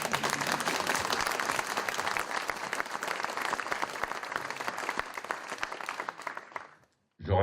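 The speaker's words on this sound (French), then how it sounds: "Oui, vous pouvez applaudir." An audience at a public event applauds a government member, a steady dense clapping of many hands at moderate level that cuts off abruptly near the end.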